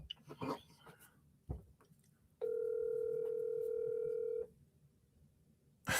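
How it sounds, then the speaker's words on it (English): A telephone call to a Rotary Club: a sustained steady dial or ringback tone of about two seconds follows a few faint clicks and soft handling noises, then a sharp burst at the end. "Calling the Rotary Club."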